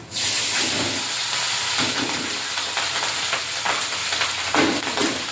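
Rice tipped into a hot pan of ghee with fried cashews and raisins, giving a sudden loud burst of hissing sizzle that continues strongly, with intermittent stirring scrapes.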